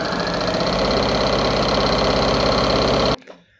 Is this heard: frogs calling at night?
no